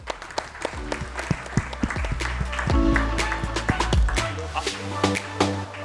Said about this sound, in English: May we have a round of applause for Mr.